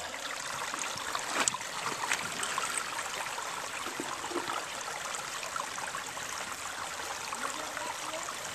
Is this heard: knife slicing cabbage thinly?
no